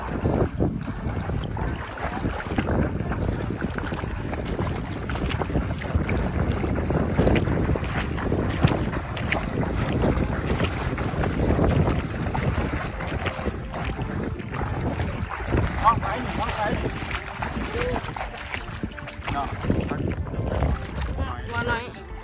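A small boat is paddled through floodwater, with continuous splashing and sloshing under heavy wind buffeting the microphone, and occasional voices mixed in.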